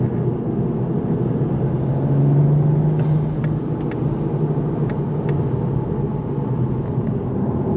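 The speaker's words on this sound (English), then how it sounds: "Try to get a little bit of intake sounds." A manual Toyota Supra MKV with an aftermarket intake cruises in fourth gear, its steady engine drone and intake hum heard from inside the car amid broad road rumble, swelling slightly midway, with faint ticks and no talking.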